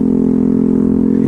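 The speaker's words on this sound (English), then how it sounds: "this exhaust is so loud" A motorcycle's loud exhaust drones steadily and close while it is ridden on a clear Sunday, a constant engine note with dense harmonics and no pauses.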